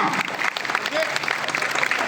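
A crowd claps loudly and steadily for a performer after a fire-ring act in Vijayawada, and an announcer's voice carries over the ovation.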